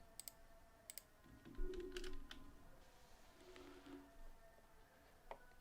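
A password is typed on a computer keyboard in quiet, scattered key clicks and short bursts, with faint background noise.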